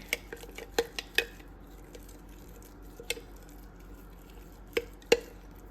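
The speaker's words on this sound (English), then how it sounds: "And give it another stir." A utensil scrapes and clinks against the side of a jar in a series of irregular taps while stirring thick, dry sourdough starter, with quiet pauses between.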